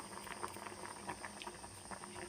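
Moringa leaf kuzhambu curry boiling in a pot, a soft continuous bubbling patter heard quietly and close, with no talk.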